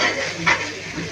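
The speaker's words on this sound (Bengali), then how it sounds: "মশলাটাকে ভালোভাবে কষিয়ে নিচ্ছি।" Masala spice paste for tular dandi fish bhuna sizzles in the pan as it is stir-fried, a steady close frying hiss with a brief louder stirring scrape in the middle.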